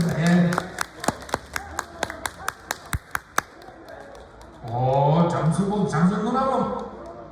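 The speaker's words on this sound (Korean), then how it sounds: "박수 한번 주시기 바랍니다" Audience clapping at a Korean event, a string of sharp, fairly sparse claps in the first half that fades, after which someone talks over the room.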